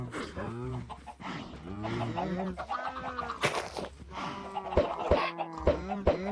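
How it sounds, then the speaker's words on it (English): Chickens cluck in Minecraft, a cluster of short game-animal clucks and squawks recurring throughout, mixed with someone talking over them. "I hear chickens everywhere."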